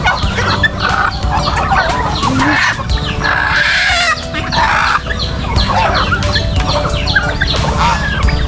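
Chickens on a farm, among them a young laying hen, keep up loud, continuous clucking and squawking close by, with overlapping calls and a bird crowing in the mix, and no talking.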